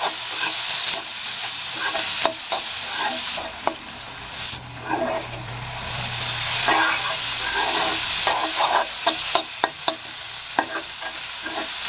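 Small fish fry in a spiced masala while a spoon stirs them, producing a steady hissing sizzle close up, punctuated by sharp scraping and clinking strokes at irregular intervals.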